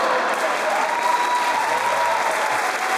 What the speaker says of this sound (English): That's a wild place to cheer.